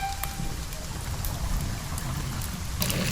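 Steady rain falls and patters on surfaces with a rushing, windy hiss, continuous and fairly loud throughout, with a few sharper drops near the end.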